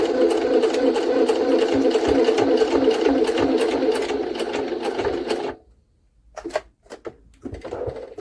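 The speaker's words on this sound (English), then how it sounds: "The only machine in the world that can sew 30 layers of linen." A Jaguar SJ-23 sewing machine stitches through 30 layers of linen with a loud, fast steady clatter that runs for about five and a half seconds, then stops, leaving a few short knocks and handling sounds.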